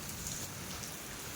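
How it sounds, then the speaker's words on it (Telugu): Heavy summer rain pours steadily, a dense, even hiss of drops close by with no pauses and no voices. "అంత పడింది వర్షం"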